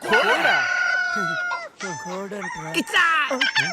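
Chickens call and cluck loudly and close by, with a drawn-out crowing-like cry at the start and choppy clucks after.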